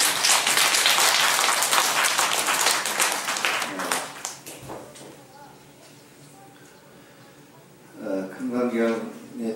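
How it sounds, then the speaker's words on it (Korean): A burst of applause from a small crowd at a Buddhist Diamond Sutra lecture, fading out over a few seconds, followed by quiet and then a voice speaking. "박수 한번 쳐주세요"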